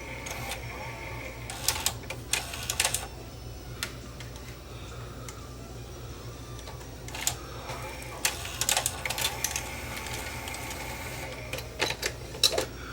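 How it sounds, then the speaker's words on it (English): A Sony SL330 Betamax with a 711B3 chassis prone to jamming runs its tape mechanism motors, giving a steady low mechanical whir broken by clustered clicks and ticks from the parts. "You can hear the motors coming on"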